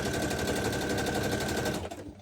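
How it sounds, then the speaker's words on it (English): A home sewing machine stitches in a fast, steady mechanical whir, loud and close, then stops abruptly near the end. "my sewing machine, I don't think you can see it on camera"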